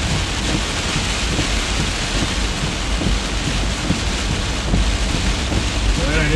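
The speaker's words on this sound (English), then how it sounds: "Heavy downpour." Heavy rain pours down during a drive, a loud, continuous roar of water drumming on the vehicle with rumbling, wind-buffeted low noise throughout and no letup.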